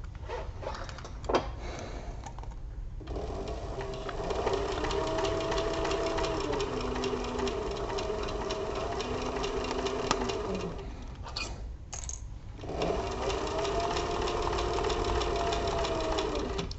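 A sewing machine stitches a crossbody bag in steady, whirring runs, pausing briefly between seams before starting up again, close and clear with no talking.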